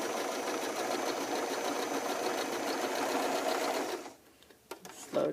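A sewing machine runs in a steady continuous stitching burr while sewing a welt pocket, then stops after about four seconds, leaving a few faint handling clicks.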